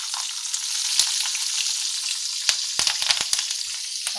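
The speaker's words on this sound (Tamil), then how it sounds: "அதுக்கப்புறம் மிளகாவை கட் பண்ணி போடுறேன் நான்." Sliced green chillies hit hot oil in a pan of dal for aval upma, setting off a steady bright sizzle with sharp crackling pops scattered through the last half, close and loud with no talking.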